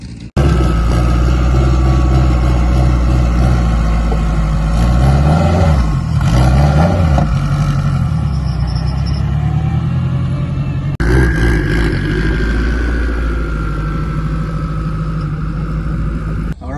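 A built 700-horsepower K-series Honda Integra with a built transmission roars hard as it accelerates down a race track, the engine loud and close throughout with rising revs and a brief gear-change dip midway.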